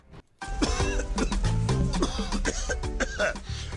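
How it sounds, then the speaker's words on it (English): Someone coughs repeatedly in harsh, rasping fits, close and fairly loud, with hoarse throat noises between the coughs. "this cough is serious"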